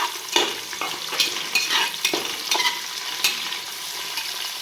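Three onions frying in a pan for chicken biryani made without ghee, with steady sizzling and repeated stirring scrapes close by; no talking.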